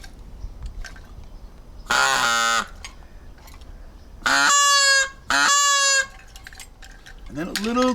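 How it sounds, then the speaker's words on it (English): Three loud, buzzy honks from a Canadian goose call whistle ring out close by with pauses between them, the last two in quick succession, and a faint rising call starts at the end. "Now we have a goose whistle from Canada."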